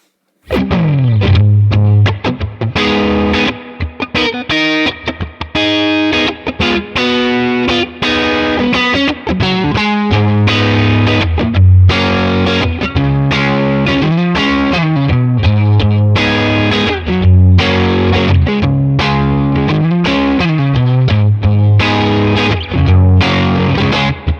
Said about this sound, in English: if you push the volume here, you get more dirt. So let's just crank it up and hear what that sounds like.